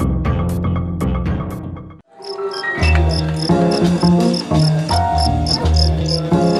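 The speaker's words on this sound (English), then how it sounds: "is the cricket with the loudest. The loudest one. Loudest noise." A fighting cricket in Indonesia chirps in loud, rapid, rhythmic pulses, close and piercing, layered over other steady tonal sounds.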